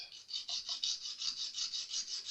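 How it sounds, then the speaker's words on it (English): The end of a Jazz Bass nut is sanded with rapid, even back-and-forth rasping strokes, about a dozen rhythmic passes, close and clear with no talking. "So we're going to sand down just the end."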